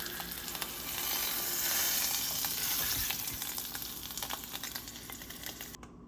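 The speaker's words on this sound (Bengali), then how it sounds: "ডিমটা ভেজে তুলে নিয়েছি ওই কড়াইতে" Eggs frying in oil in a wok, a bright continuous sizzle with scattered crackles and light tapping, fairly close, with no talking.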